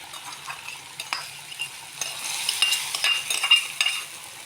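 Mustard seed tempering poured into a simmering ginger curry that has nearly cooked down: a close, steady crackling sizzle that grows louder and busier, with light stirring and no talk.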